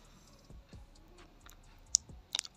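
A computer mouse clicks on a website link, giving a few sharp, faint clicks, the clearest pair near the end, set against quiet room noise.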